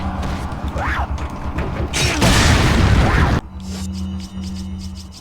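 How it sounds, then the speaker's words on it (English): A grenade goes off in Resident Evil 4 (2005), a loud, broad burst of noise lasting about a second amid mechanical game sounds, then cutting off to quieter ambient hum. "Alright, grenade time."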